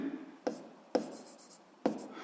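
A pen writes on paper, three sharp strokes at uneven intervals with soft scratching between them, close and quiet with no talking.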